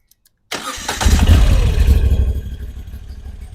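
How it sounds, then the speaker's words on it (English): An air-cooled Moto Guzzi V85TT twin motorcycle engine fires up after a brief silence, a close, loud grumbling burst that settles into a lower, uneven idle throb. "It's got that grumble of an air-cooled twin"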